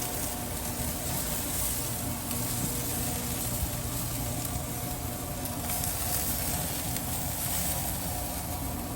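Tomahawk steaks and beef fillets sizzle on a grill just after being flipped. A steady, even crackling hiss continues unbroken at moderate loudness, with no talk over it.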